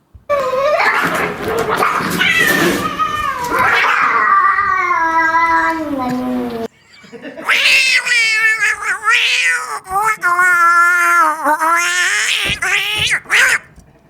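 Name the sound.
voice imitating a cat fight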